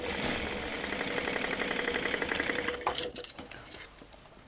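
A sewing machine stitches down a bag seam, a steady rapid mechanical whir of close, even stitches for about three seconds before it slows and stops, leaving a few faint handling clicks.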